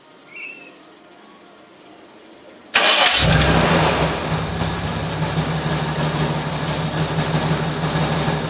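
A Nissan R31 Skyline engine is started from cold: after a quiet lead-in, the starter cranks briefly, the engine catches with a loud burst, and it settles into a steady, rough idle close by.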